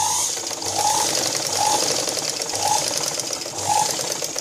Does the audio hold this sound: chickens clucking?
no